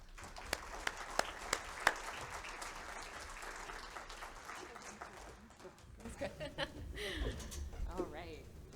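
A conference audience greets a keynote speaker with steady applause that starts with a few sharp claps, swells into sustained clapping, and carries some murmuring voices near the end.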